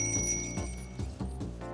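A bicycle bell rings several times in quick succession, close and clear, with metallic shimmering tones repeating at a steady rhythm over a low background.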